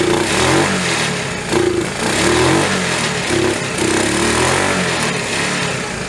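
A long-parked Honda Trail CT70 motorcycle engine runs steadily up close, a continuous mid-pitched putter with slight surges in revs, loud and alone.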